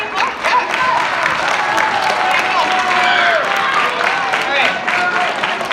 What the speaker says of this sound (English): Yeah, give it a clap,